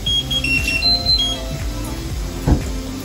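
Kitchen timer ringing while cooking okok salé, a steady high electronic beeping tone running through the clip at moderate level over low kitchen rumble and a brief clatter.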